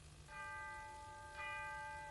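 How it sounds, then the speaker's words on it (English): Bell chiming midnight, two clear ringing strikes a little over a second apart, each with a long sustained tonal hum, sounding alone over a faint steady background. "Chiming midnight."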